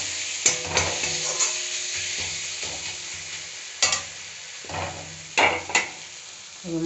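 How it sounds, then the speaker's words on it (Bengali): Spices for ghugni are stirred in a frying pan, producing a continuous sizzle punctuated by irregular scraping and knocking strokes of a spatula against the pan, close and fairly loud. "এবার নাড়াচাড়া করবো।"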